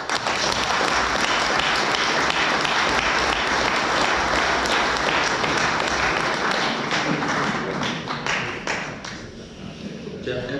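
An audience at a book presentation breaks into loud, dense applause that fills the room for several seconds, then thins into scattered individual claps toward the end, with voices mixed faintly underneath.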